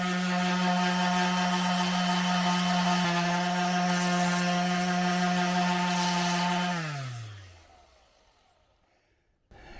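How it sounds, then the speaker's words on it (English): A power sander bevels a wooden camera mount with a loud, steady whine that holds for several seconds, then winds down as the motor stops. "I'm just going to do it with a sander"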